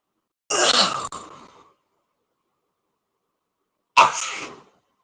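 Two sharp, loud sneezes close by, a few seconds apart, the first trailing off with a breathy exhale.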